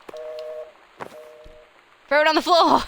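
Telephone busy tone from the video game Gone Home: two steady, even beeps with a pause between them, then a person starts talking over background noise.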